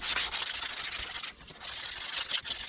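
Hand sanding with an 80 grit emery strip on a part of an MCI bus Bendix DD3 brake actuator, a loud, close, continuous rasping scrub with a brief pause midway before the strokes resume.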